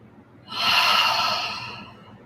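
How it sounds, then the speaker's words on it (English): A slow exhale during a yoga flow comes as one long, soft, breathy whoosh close to the microphone, swelling and then gradually fading over about two seconds. "Slow exhale."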